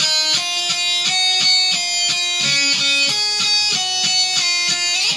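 A slow guitar rendition of a riff, its bright picked notes moving in a steady, repeating rhythm with a brief lower figure midway, clear and close with no voices.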